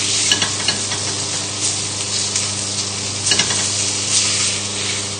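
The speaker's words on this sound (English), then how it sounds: "just turn them over, just making sure that the parts that haven't been browned yet just get turned over facing the heat" Pork pieces sizzle steadily in a hot pan while being stirred and turned to brown, with scraping clicks over a continuous close fry.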